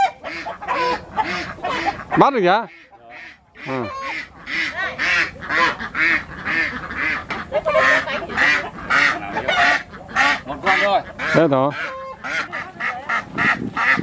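Loud, overlapping honking quacks from a flock of farm-raised ducks as one is caught. The calls are close and continuous, with people talking briefly among them.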